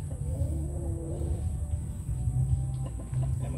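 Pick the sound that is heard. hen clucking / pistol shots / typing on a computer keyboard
hen clucking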